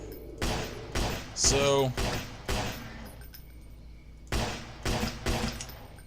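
Gunshots from a Zombie Apocalypse PC shooter game, several sharp loud bursts spread across the span with gaps between, a voice talking over parts of it.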